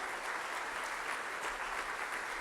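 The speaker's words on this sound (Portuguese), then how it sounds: "aplauda novamente ao Senhor pela sua palavra" A church congregation applauds, a dense steady wash of clapping that fills the room evenly from start to finish, with no talk over it.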